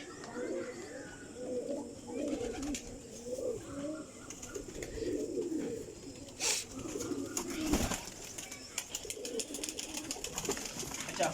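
Close, steady cooing from teddy pigeons, several overlapping throaty calls rolling on without pause, with a couple of sharp knocks partway through and little talk.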